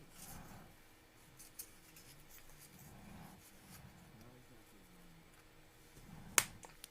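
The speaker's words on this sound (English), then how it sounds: "Oh, did you hear that clicking sound?" A single sharp click sounds near the end as parts of a ROKR Stagecoach model kit are fitted together during assembly, following a stretch of quiet handling and rustling.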